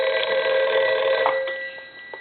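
The bell of a repaired Western Electric 302 desk telephone gives a single loud, close, continuous ring that fades out near the end.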